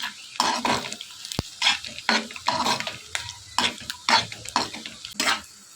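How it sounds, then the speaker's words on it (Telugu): A spoon repeatedly stirs and scrapes a frying chili powder and salt mixture in a pan for egg noodles, giving irregular scraping strokes about once or twice per second over a soft sizzle, close and fairly loud. "కారం వేసుకుని ఇవన్నీ బాగా మిక్స్ చేసుకుని ఫ్రై చేసుకోవాలి."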